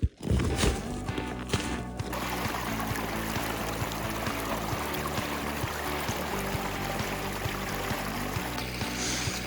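A small woodland brook in Vermont flows steadily over rocks, a continuous close trickle and babble with a brief louder splash at the start.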